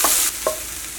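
Tomatoes roast in a hot pan with a brief sharp sizzle and two quick scraping strokes, close and short, no voices present.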